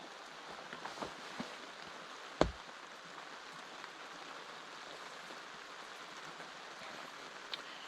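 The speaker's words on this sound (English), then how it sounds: "You can hear the rain is just down to a little sprinkle." Light rain sprinkles outdoors in a watershed, a soft, steady patter and hiss with a few scattered sharper drips and one brief knock, fairly faint and without talking.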